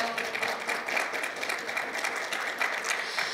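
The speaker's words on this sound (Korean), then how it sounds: "박수로 맞이해 주시죠." An audience at a KBS2 historical drama press event claps to welcome the cast onstage for a group photo. The applause is moderate and somewhat uneven, with light clicking mixed in.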